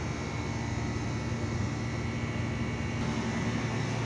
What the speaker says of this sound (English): This is the blower section.